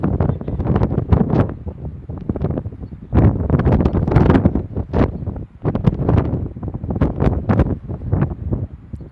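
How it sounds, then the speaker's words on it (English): Wind roars across the microphone at an outdoor soccer match, loud continuous buffeting in gusts with rumbling low thumps and no break for the whole stretch. "Wind still coming in hot."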